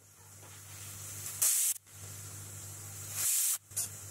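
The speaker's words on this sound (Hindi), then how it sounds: "कुकर का ढक्कन लगाना, गैस को लो फ्लेम पे कर देना और आपने 5 से 6 सीटियां लगानी है लो फ्लेम पे।" A pressure cooker of chickpeas on a low gas flame gives two loud, sharp bursts of steam hiss, each lasting under half a second, over a low steady hum.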